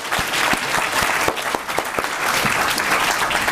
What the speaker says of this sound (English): would you join me in giving one final round of applause